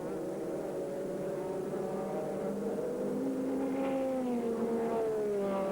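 GT-class race cars in a 2001 American Le Mans Series race drone steadily, with engine pitch shifting as cars approach and pass on track, heard from a distance as a continuous blended roar.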